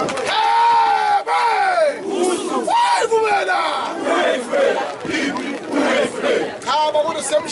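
A Zulu wedding crowd in KwaZulu-Natal cheers loudly, with high ululating cries and shouts rising and falling in bursts close by, mixed with excited chatter.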